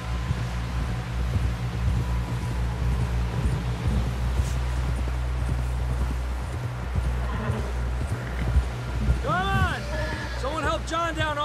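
Horse hooves clop steadily beneath spoken dialogue and a low ambient rumble in Red Dead Redemption 2, ending with a horse's whinny near the close.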